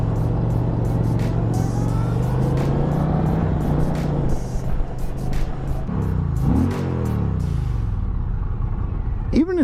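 A stock 2023 Indian Challenger Dark Horse motorcycle engine rumbles steadily while riding, loud and close with a deep drone that dips and swells briefly as revs change, then settles back.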